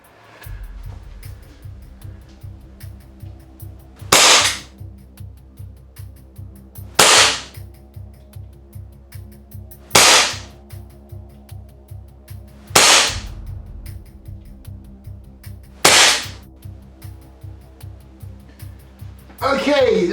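Army Armament R45 Detonics .45 1911 pistol fired at a target about 25 feet away: six sharp, loud single shots spaced roughly three seconds apart over a faint steady background hum.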